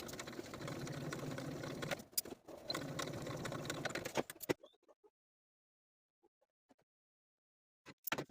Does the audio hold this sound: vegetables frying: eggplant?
no